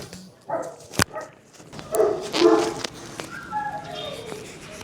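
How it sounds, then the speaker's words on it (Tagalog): Several large Tibetan dogs bark and yip nearby in short bursts, with a sharp thump partway through and some whining and bird-like squeaks toward the end. "naririnig nyo yung mga tahol nila"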